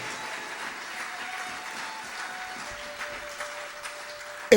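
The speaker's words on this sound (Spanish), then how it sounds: "Dale un aplauso al Señor con todo tu corazón." A church congregation at a Spanish-language service claps in a steady, moderate wash of applause, with a faint sustained tone underneath and a sharp thump at the very end.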